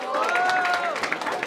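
Crowd at a rap battle event cheering and shouting to vote for a competitor, a brief noisy roar with voices and a rising shout over scattered clapping.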